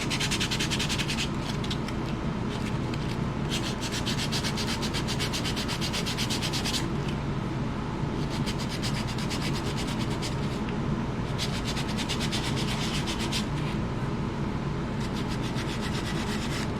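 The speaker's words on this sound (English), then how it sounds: "This is 220 grit sandpaper, and sand it down a little bit" Hand sanding of laser-engraved painted wood with 220 grit sandpaper: loud, close, continuous rasping strokes with a steady back-and-forth rhythm and brief changes in texture.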